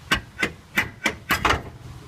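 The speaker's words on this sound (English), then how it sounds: "pull the axle out by using this brake drum as a hammer" A brake drum on a 1966 Cadillac is swung as a slide hammer against the axle shaft, giving six sharp metallic knocks at a steady rhythm, close and fairly loud, the last two coming in quick succession.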